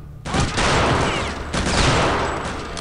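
Dense, loud gunfire in the Return to Castle Wolfenstein video game, a sudden sustained fusillade of overlapping shots that breaks briefly and resumes, filling the short clip.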